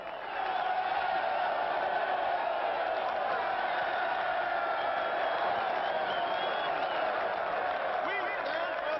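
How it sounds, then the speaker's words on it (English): A large crowd at a 1980 prison protest roars in a sustained, distant-sounding yell that holds steady throughout, with scattered shouts rising above the mass of voices. "You give him a big yell, huh?"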